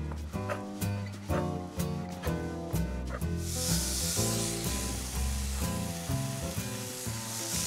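Maplewood smoked bacon, cut into rough slices, sizzles and crackles in a pan in a continuous frying hiss that swells louder partway through, with a steady tonal backdrop underneath.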